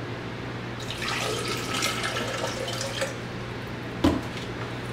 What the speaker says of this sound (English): add some filtered water,